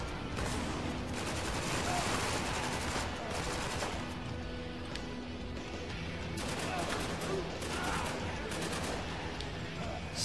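Dense exchange of in-game gunfire from Spec Ops: The Line in co-op play, with loud repeated shots and bursts filling the scene without a pause.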